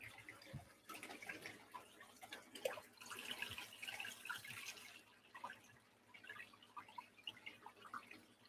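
Groundwater runs from a hose that bypasses the home water system, giving a soft, uneven splashing and dripping that is faint and close, with no voices.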